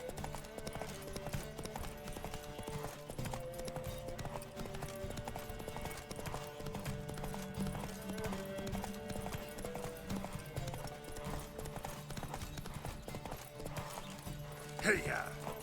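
Horse hooves clip-clop rapidly in a steady galloping rhythm in the video game The Witcher 3, beneath a continuous musical backdrop, with a brief louder accent near the end.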